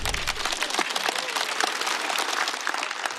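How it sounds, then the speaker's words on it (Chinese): Sustained applause from a stand-up comedy audience, dense even clapping filling the room for the whole stretch with no voices over it. "再次掌声送给史岩。"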